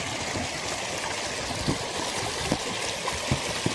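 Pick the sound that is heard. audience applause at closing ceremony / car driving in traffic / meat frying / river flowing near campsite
river flowing near campsite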